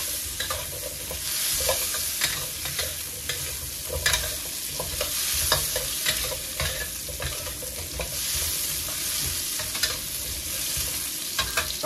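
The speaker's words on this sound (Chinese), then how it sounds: "咱把栗子给它炒几分钟" Chestnuts stir-fried in oil in a wok sizzle continuously, with frequent scraping and clacking as a spatula tosses them, close and steady throughout.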